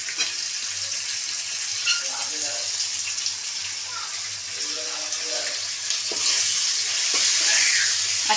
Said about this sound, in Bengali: দিয়ে পেঁয়াজটা একটু ভাজা ভাজা হোক,